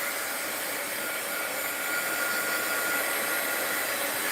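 A hair dryer blows over coffee-dyed paper, a steady, loud, broadband whoosh held close and unbroken throughout with no voices.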